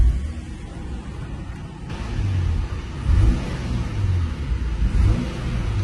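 A Toyota Supra engine idles with a slight misfire, a low uneven rumble that swells in a couple of heavier pulses, steady and close with no talking.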